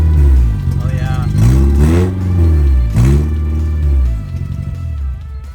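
A D16Z6-swapped Honda Civic race car engine revs loud and close, its pitch rising and falling in repeated throttle blips over a steady idle, with excited voices over it.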